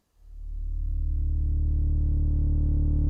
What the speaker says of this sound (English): you can get really, really cool tones out of this synthesizer.